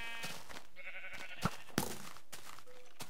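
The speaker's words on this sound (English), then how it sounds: "Get out of my way, sheep." Sheep in the Minecraft video game, bleating a couple of times close by among a few soft thuds and game noises, fairly quiet overall.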